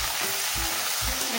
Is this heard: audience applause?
no